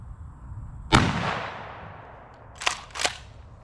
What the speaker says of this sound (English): I'm gonna shoot the target first that's standing up of the silhouette.